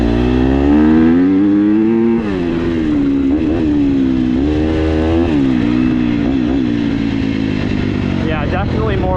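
A KTM 250SX-F four-stroke dirt bike engine revs loudly and close, its pitch climbing and dropping through repeated throttle blips, with a voice audible alongside.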